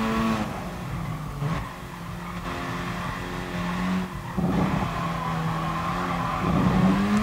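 A race car in the GT Sport video game driving hard, steady engine drone with shifting pitch and repeated tire squeals and skids as it works through corners, loud and close.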